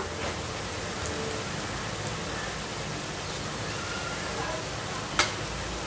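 Agri masala, turmeric, salt and garlic sauté with chicken in a pan over low flame, giving a steady, dense sizzle that continues evenly, with one brief clink near the end.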